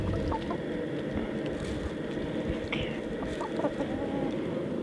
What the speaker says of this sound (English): Is this a nice rooster?